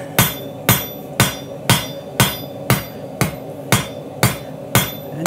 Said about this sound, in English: And using your cross peen to draw width.